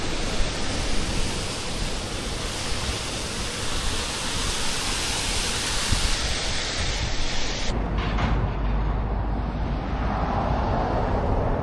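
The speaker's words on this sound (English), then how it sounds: "Nice waterfall." Steady, dense rushing water roars continuously, a broad constant wash of sound with no voices.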